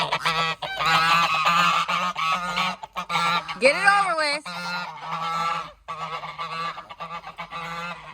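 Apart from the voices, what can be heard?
geese honking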